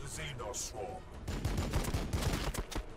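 Space Marine Intercessors opening fire in the Warhammer 40,000: Battlesector video game, heard as a burst of rapid, overlapping gunshots after a brief moment of game speech.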